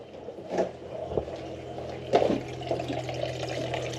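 Gasoline trickling and dribbling from the fuel system of an old OBS pickup truck in a garage, a faint continuous liquid running sound with a low steady hum and a few soft clunks.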